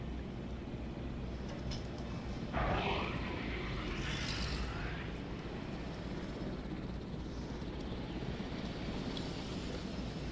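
Helicopter in the dinosaur-park game Jurassic World Evolution: a steady low mechanical rumble runs throughout, with a brief louder swell near the start, heard alone at a moderate distance.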